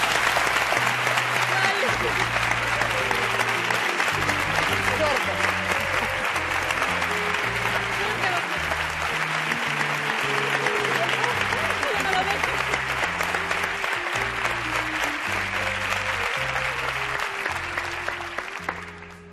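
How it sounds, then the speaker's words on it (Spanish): A television game-show studio audience in 1980s Mexico applauds loudly and steadily for nearly twenty seconds while a brassy band tune plays underneath, the clapping dense and unbroken until it fades at the end. "nuestro agradecimiento en el programa con este fuerte aplauso del público"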